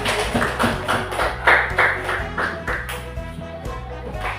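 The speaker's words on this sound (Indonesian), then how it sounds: "Kasih tepuk tangan." Classroom applause for an elementary school student group presentation, a few seconds of brisk, uneven clapping from a small group of children with some thumping in a reverberant room.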